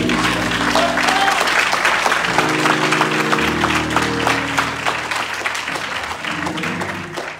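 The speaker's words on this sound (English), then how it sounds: "give him a hand clap, please" Congregation clapping throughout a Sunday worship service, a dense steady wash of applause from a full room with sustained organ or keyboard tones underneath, loud and continuous.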